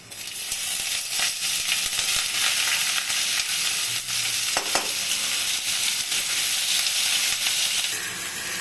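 Onions sizzling and frying steadily in a hot pan with browned garlic for a spicy Bengali egg curry, a continuous loud hiss with occasional stirring scrapes.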